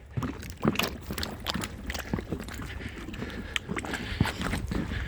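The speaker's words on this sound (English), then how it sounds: "You can hear it sloshing." Water sloshing in black muck beneath a bike trail at Portage, heard as close, irregular wet splashes and squelches, as if stepped on, repeating throughout.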